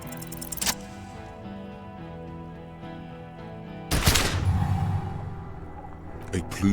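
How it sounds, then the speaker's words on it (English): A gun fires in the video game Disco Elysium: one sudden, loud blast with a rough, noisy tail that cuts through a quiet, steady music bed, followed by a few faint clicks. "A plume of smoke and fire erupts from the gun, and your hand goes numb from the explosion."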